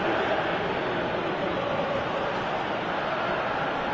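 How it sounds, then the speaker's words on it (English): Stadium crowd in a PES 2018 football match, Genoa against Steaua Bucuresti, a broad steady roar of many voices urging a player to shoot, continuous and dense throughout. "Crowd calling for him to shoot."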